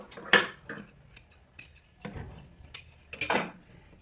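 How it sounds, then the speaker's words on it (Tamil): Scissors snip away excess blouse cloth in a handful of short, crisp cuts spaced irregularly, close and fairly quiet with no talking. "எக்ஸ்ட்ரா கிளாத்தை கட் பண்ணிடுங்க"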